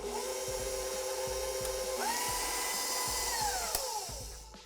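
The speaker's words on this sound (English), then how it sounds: "let's just turn on the mixer and we'll mix this up until it's well combined again" An electric mixer whirs steadily through pistachio butter cookie dough in a bowl, a close motor hum that rises in pitch partway through and then winds down, with faint rhythmic knocks of the beaters.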